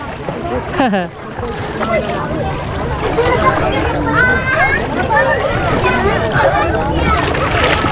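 A motorboat engine fitted with a muffler hums low and steady beneath several people talking and laughing close by, with wind and water noise around them.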